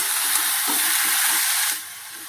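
Okra, tomato and potato frying in hot oil, a dense steady sizzle with a few stirring scrapes, dropping quieter near the end; no talking.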